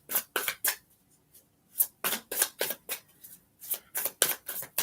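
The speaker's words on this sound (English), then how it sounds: "So let me really shuffle them up." Deck of tarot cards being shuffled up close, a series of crisp riffling bursts in quick, uneven clusters with brief pauses between them.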